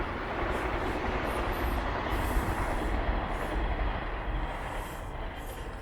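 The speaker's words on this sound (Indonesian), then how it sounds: "Berisik banget suara densan, suara kereta api" A loud, continuous rumbling roar of a passing train near houses in Japan fills the scene, broad and noisy with no clear pauses.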